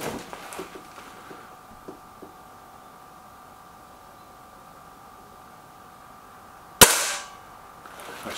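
A Kral Devil or Gamo Whisper Sting air rifle fired at a target, a single sharp crack near the end after quiet room tone, close and loud with a short decay.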